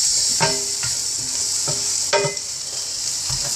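Salmon, green beans and carrots stir-fry in butter in a pan, with a steady loud sizzle and several clattering stirs of a utensil scraping through the food, and no voices.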